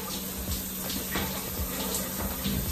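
Shower water rinses off a person in a steady, soft spray with splashing, heard alone and close at low level.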